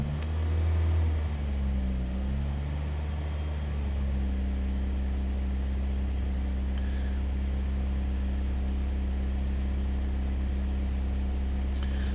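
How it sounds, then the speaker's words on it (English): A Saab engine idles at operating temperature, a steady low hum and drone heard close, with a slight shift in tone early on before settling into an even, unchanging run. "running the same engine speed without the load on it"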